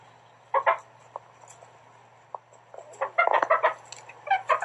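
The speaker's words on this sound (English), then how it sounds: "This chicken is trying to eat one." Chickens clucking close by, scattered single clucks at first, then a busier run of rapid clucking over a faint steady hum.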